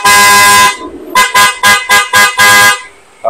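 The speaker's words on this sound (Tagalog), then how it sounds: "testing naman natin yung loud horn." A loud aftermarket horn on a Honda ADV scooter blares in one long blast, then sounds in five quick, rhythmic toots and a final longer honk, close and piercing.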